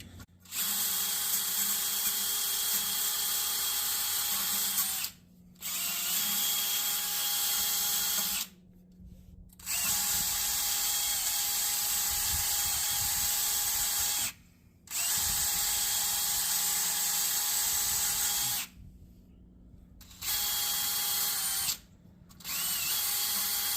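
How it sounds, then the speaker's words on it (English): A power drill whines steadily in long bursts through a metal tie rod on a 1975 Chevy C10, stopping and starting several times with short pauses between runs, loud and close with a grinding edge. "let's see if we can drill this"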